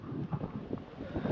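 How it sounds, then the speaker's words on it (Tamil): Strong wind buffeting the microphone at a crowded hillside Shiva temple in Chikmagalur, a steady low rumbling roar with gusty swells throughout, loud and close, with no talk. "நல்லா காற்றடிக்குது"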